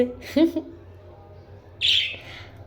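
Young birds giving a couple of short, bright chirps and squeaks, close by, separated by quiet gaps over a faint low background hum.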